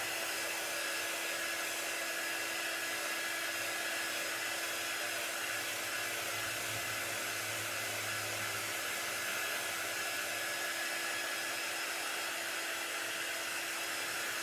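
A hair dryer blows steadily on a big ornament, a continuous airy hiss with a faint motor whine, constant and unbroken with no talk.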